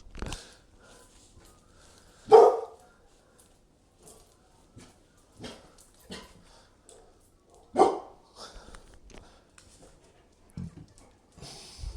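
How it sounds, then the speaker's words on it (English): American Staffordshire Terriers bark in short, sharp bursts at irregular intervals, a couple of louder barks standing out against quiet background snuffling and movement. "You're both barking at something."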